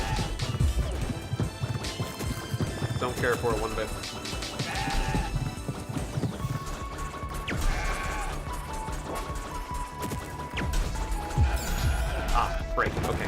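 Goats in the action RPG CrossCode being struck, heard as repeated smashing hits and bleats mixed with game music, while a player talks throughout.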